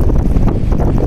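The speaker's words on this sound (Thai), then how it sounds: "ลมก็พัดสวนทางเลยครับ" Strong wind gusts roar steadily against a sand-carrying pontoon barge on open water, a dense, buffeting rumble across the mic with no voices.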